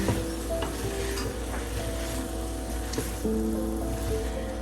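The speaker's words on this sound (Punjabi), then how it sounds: "ਹੁਣ ਸਬਜ਼ੀ ਦਾ ਨਾ ਮਸਾਲਿਆਂ ਵਿੱਚ ਰਲਾ ਦਵਾਂਗੇ ਜੀ ਟੁੜਕੇ ਦੇ ਵਿੱਚ" Chopped chayote is stirred into a hot spice tempering in a pan, producing a continuous dense sizzle with occasional scraping stirs throughout.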